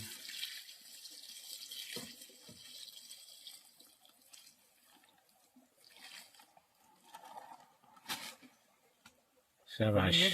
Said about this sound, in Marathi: हे बघा हे असं पाणी घालायला लागतं